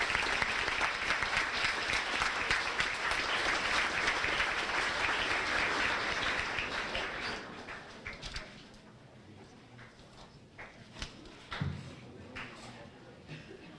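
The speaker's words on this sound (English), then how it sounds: "So give these guys a round of applause." A sports banquet crowd gives a strong round of applause that rolls on loudly for several seconds, then thins to scattered claps and room shuffling.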